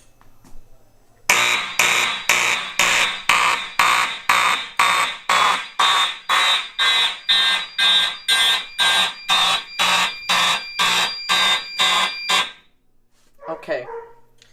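Fire alarm set off by pulling a Simplex pull station, sounding as a loud horn in about sixteen evenly spaced pulsing blasts, then falling silent before a faint short burst near the end.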